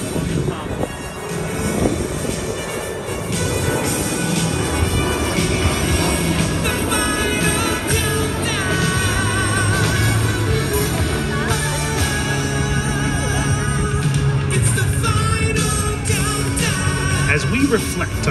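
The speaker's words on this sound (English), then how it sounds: "Approaching show center, your McDonnell Douglas KC-10A extender." McDonnell Douglas KC-10A Extender tanker jet flying past show center at an air show, a loud continuous broadband jet roar with wind noise that lasts throughout, and an announcer talking over it.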